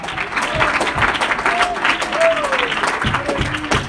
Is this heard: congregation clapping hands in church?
yes